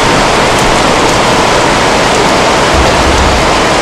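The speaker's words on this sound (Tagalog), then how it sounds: "Grabe, bumabayo ang ulan." Torrential rain pounds down in a loud, unbroken roar of dense hiss, close and enveloping, with no voices.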